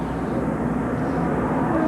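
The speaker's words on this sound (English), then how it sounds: "Look at the airplanes all around." Fixed-wing airplanes flying around Atlanta Motor Speedway during the 1993 NASCAR Winston Cup Hooters 500, heard as a steady, broad engine drone mixed with crowd and track noise, continuous and fairly loud throughout.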